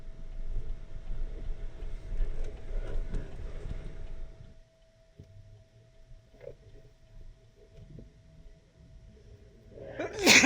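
A single sharp sneeze bursts out loudly at the very end, close to the microphone, after a stretch of outdoor background rumble and wind.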